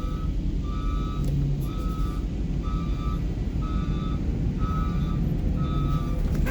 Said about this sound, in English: It's because I have another bus backing up next to me at the same time.